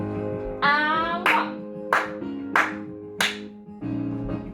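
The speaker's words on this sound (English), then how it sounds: "Big claps." Children in a ballet class clap their hands in four sharp, evenly spaced claps over steady background music.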